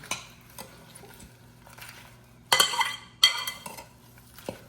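Fresh salad being tossed in a bowl, with scattered soft clinks and a couple of louder bursts of utensil scraping and clattering against the bowl, close and alone.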